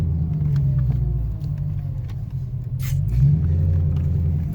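A Mercedes CLS 500 AMG with an automatic gearbox idles low and steady, its deep rumble holding an even tone with a slight swell near the end and no talk over it.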